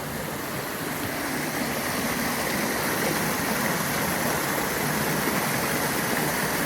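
Water rushes steadily over smooth stones at Buck Gulch Falls on a rainy hike, a dense, continuous close-up roar of flowing water with no voices.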